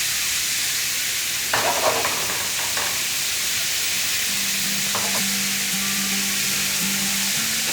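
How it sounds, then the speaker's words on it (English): Salt cod (baccalà) frying in a pan gives a steady broadband sizzle throughout, with a few sharper crackles and clinks as pieces are moved or turned, and a faint low hum joining in the latter half. "For your baccalà, right when it gets golden brown on one side, just gently flip it over."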